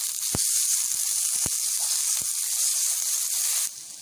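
Onions with ginger garlic paste sizzle steadily in a pan, a continuous loud hiss with a few sharp pops and crackles, ending with a sudden drop in intensity.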